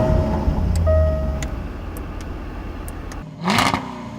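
A Jaguar SVR engine drones loudly from inside the car, eases off, then surges in a sharp roaring rev near the end, with faint ticking clicks underneath.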